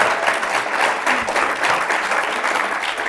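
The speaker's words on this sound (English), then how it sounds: "Big round of applause for these two." Studio audience applauds guests on a business talk show, a loud, close, steady roar of clapping with slight swells, lasting about three seconds and free of speech.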